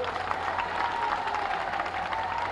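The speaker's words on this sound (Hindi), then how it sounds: "ये तालियां इस बात का गवाह है" Dense, steady applause from a large crowd at an election rally in Bihar, continuous and loud throughout with a faint murmur of voices mixed in.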